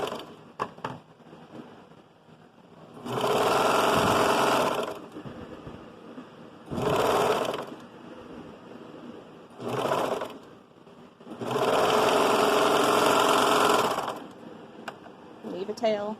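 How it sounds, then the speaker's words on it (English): A sewing machine stitches a costume's inner leg seam in four runs, two long and two short, with quiet pauses between them; the whirring sits up close and loud, with no talk over it. "I'm just going to sew both curves right sides together and then turn it and sew that inner leg seam"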